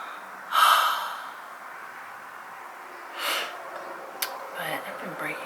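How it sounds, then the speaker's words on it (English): A pregnant woman breathes heavily while out of breath. A sharp, loud gasping inhale comes first, followed by softer breaths and sniffs that are close to the mic, with quiet pauses between them. "I'm out of breath because I'm pregnant"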